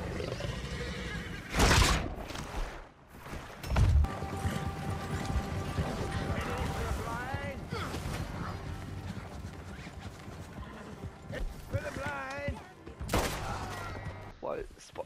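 Horse hooves clip-clop at a steady gait in the Western video game Red Dead Redemption, mixed with background music and occasional voices, with a few louder thumps along the way.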